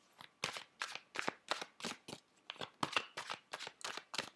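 Close, soft riffling of an Angels of Abundance oracle card deck being shuffled, about a dozen quick papery bursts in a steady rhythm, quiet and alone.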